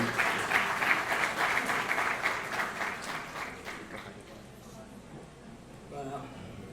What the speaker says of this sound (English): Please give a round of applause for our brother Deacon.